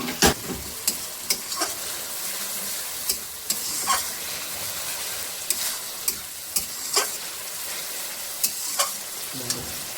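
Spice paste for a mutton dish frying in a pan, a steady close sizzle with frequent sharp clicks and scrapes from stirring throughout, no voices.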